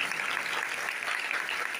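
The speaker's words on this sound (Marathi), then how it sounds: "त्याच्यासाठी जोरदार टाळ्या वाजवायच्या." An audience gives a singer steady applause after a song, a dense, continuous wash of many hands clapping at moderate loudness.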